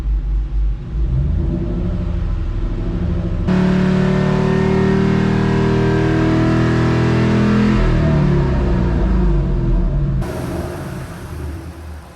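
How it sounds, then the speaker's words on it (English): An 800 HP Shelby engine running on E85 is revved slowly. A deep idle rumble climbs to a sustained higher drone, then drops back down, loud and close with no talking. "I'm gonna go ahead and just do a slow rev"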